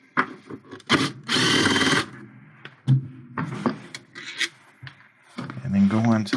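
A driver backs Phillips screws out of a Whirlpool washer during an actuator repair. Short close whirring bursts mix with clicks and handling noise, and a voice may be faintly present.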